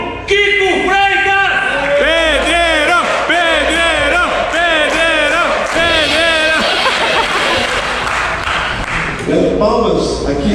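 Concert crowd cheers a drummer on a drum tour date: loud rhythmic chanting voices rise and fall over steady crowd roar, then break into looser shouting and clapping.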